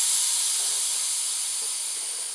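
Air hisses steadily out of a kids' cheap motocross bike tyre as it is deflated, a close, continuous bright rush that fades slightly over a couple of seconds, with no talking.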